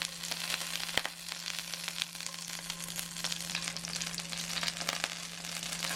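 Shrimp-filled dumplings fry in hot oil in a frying pan, giving a steady, close sizzle with dense crackling throughout and a couple of sharper pops, no talking.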